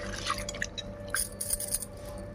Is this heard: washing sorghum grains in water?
yes